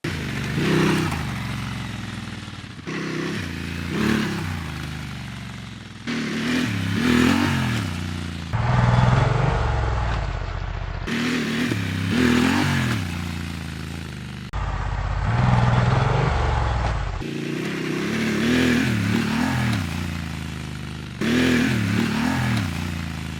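Honda Transalp 750 accelerating off-road on slippery grassy slopes toward a jump, the engine revving hard in repeated surging bursts with rising and falling pitch, interrupted by abrupt cuts and some clattering.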